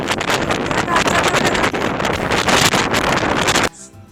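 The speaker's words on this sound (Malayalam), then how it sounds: "കാറ്റ് കാരണം നമ്മൾ പറയണത് ഒന്നും കേൾക്കണില്ല" Strong wind roars and buffets the microphone in a loud, continuous rush at a cross-country skiing area in Geilo, Norway, briefly dropping away at the very end.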